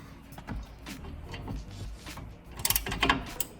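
Several sharp clicking ratchet strokes in short bursts, close by, turning a seized nut on a Mitsubishi Montero shock with a 17 mm socket and universal joint, with metallic scraping between them and no talking.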